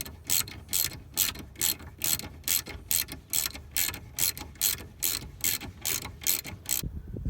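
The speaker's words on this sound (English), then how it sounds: "so I'm going to undo the sliders" Ratchet undoing the brake caliper slider bolts on a Mercedes R170 SLK, a close, loud series of regular clicking bursts in a steady back-and-forth rhythm, about a dozen strokes, with no talking.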